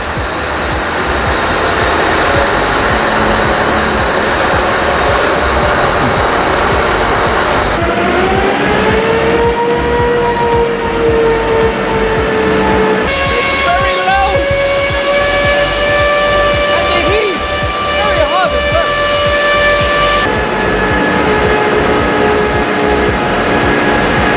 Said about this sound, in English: Let's see what sort of power this truck is developing here, Brian.